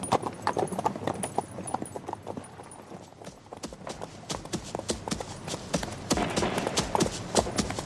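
Horses' hooves clop steadily at a riding pace over boggy Scottish-style moorland, a close, continuous run of overlapping hoof strikes with no voices.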